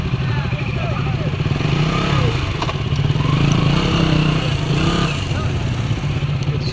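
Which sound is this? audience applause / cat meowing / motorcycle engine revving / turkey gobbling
motorcycle engine revving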